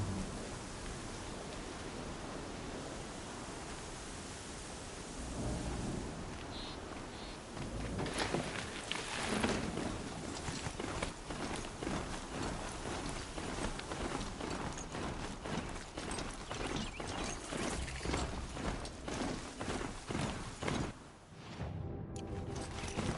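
A video game thunderstorm brings a steady wash of heavy rain that thickens midway into dense, gusty downpour with patter on surfaces, briefly dropping out near the end before resuming.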